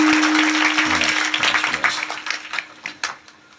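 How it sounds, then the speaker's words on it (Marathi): An audience at a devotional kirtan discourse bursts into dense applause that thins out into scattered, separate claps before fading away. "सर्वांना विनंती करतो या गुणीजनासाठी एकदा टाळ्या वाजवायच्या"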